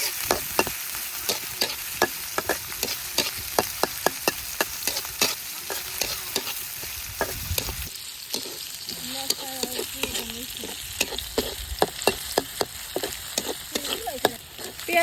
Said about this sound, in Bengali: পেঁয়াজ রসুনটা ভালোভাবে ভেজে নিব